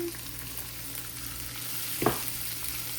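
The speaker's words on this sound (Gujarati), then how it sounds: "નવો ઓનિયન બ્રાઉન થાય ત્યાં સુધી થવા દઈએ." Chopped onion frying with garlic in a pan gives a continuous close sizzle, with a brief louder scrape or stir about two-thirds through.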